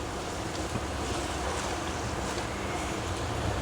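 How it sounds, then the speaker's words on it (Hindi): A little water poured into a pan of tinda (apple gourd) curry gives a steady, dense rushing hiss that holds evenly throughout, close and fairly loud. "अब यहाँ मैं थोड़ा सा पानी शामिल करूँगी इस तरीके से"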